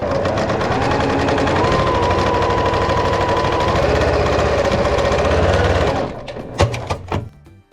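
A sewing machine stitches quilt blocks together for a baby blanket, whirring in a fast, continuous rattle for about six seconds. It then stops, leaving a few scattered clicks and handling taps.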